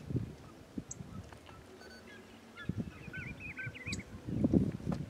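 A pitiguari sings outdoors, its clear warbling phrases faint and a little distant, running over a steady background of rustling and low noise with louder bumps near the end.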